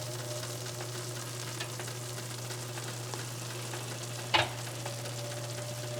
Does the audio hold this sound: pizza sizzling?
yes